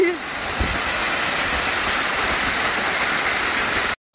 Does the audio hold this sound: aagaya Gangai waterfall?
yes